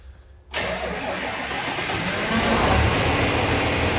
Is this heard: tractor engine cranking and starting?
yes